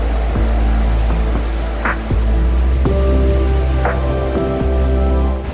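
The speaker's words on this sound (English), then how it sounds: "Check these waves out, it's so cool." Ocean waves break on the shore in a loud, steady, rumbling wash of surf that fills the whole scene without pause.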